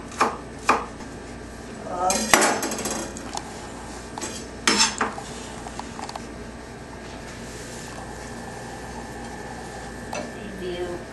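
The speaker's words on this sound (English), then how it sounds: "first I will slice the green onion, cut to small pieces" A knife slices green onion into small pieces on a cutting board, giving a few sharp, close chopping knocks and clinks that are spread irregularly over a quiet background.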